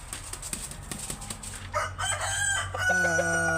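A rooster on a farm where hybrid and native chickens lay eggs crows once, loud and close, a rising then sustained cock-a-doodle-doo over soft clucking and shuffling.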